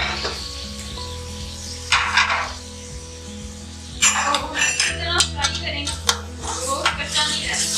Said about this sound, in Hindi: इतना फ्राई करेंगे